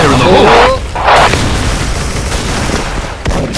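Grenade blast in a team deathmatch shooter game, a loud booming burst at the start with a second hit shortly after, then a rumbling tail under shouted voices.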